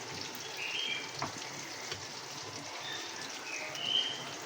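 Chicken fries for matar pulao with a soft, steady sizzle and crackle of hot oil, faint and close. A few slightly louder spits break through, and no voices are heard.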